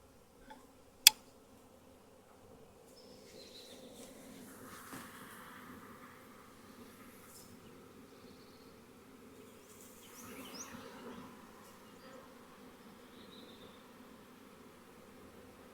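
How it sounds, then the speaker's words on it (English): A low, steady buzz of a large honeybee swarm fills the background, swelling slightly partway through, with a sharp click near the start. "They're flapping their wings and they're pumping that nasenoff gland that's on the very bottom of their thorax there."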